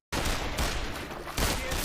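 A rapid, loud burst of gunfire in an animated film rattles almost continuously, with a brief dip midway before another volley.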